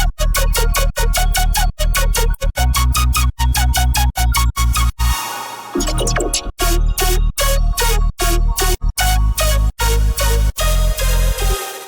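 A synth bass drop from the Colour Forge presets, with heavy pumping bass hits chopped in a driving rhythm and layered over ambient pads, briefly breaking down midway before slamming back in, loud and alone.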